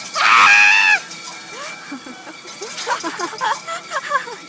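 A person lets out a loud, high, sustained scream lasting about a second, followed by several seconds of casual talking and light vocal noises.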